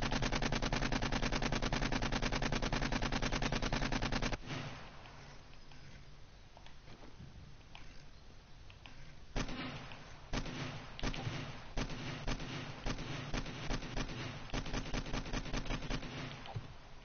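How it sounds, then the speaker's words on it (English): Gunfire in the video game 7 Days to Die: one identical shot effect repeated in a loud, rapid automatic stream for several seconds, then continuing as irregular bursts of the same looping shot. "That's why the sound effect of the gun sounds so bad, is because it's one single sound effect being repeated."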